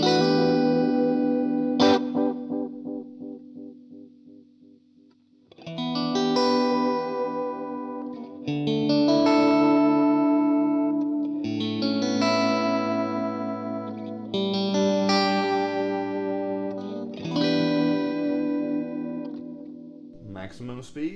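Electric guitar chords ringing through a warbling, modulated delay from a VFE Blueprint Delay pedal in Memory Man style, speed turned up high, with repeats swirling and echoing between strummed phrases; no talking.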